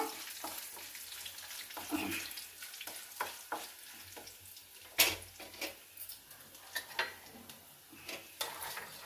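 Two dried red chilies fry in a pan for a capsicum curry. Soft steady sizzling runs throughout, broken by occasional stirring scrapes and utensil clinks against the pan, with no talking.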